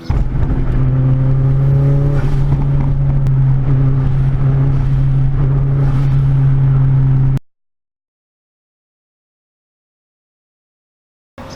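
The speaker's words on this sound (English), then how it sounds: "here's a little bit of footage of that drivetrain rocking I was talking about." A car with stock rear differential bushings drives with its drivetrain rocking, giving a loud steady engine drone for about seven seconds that then cuts to silence.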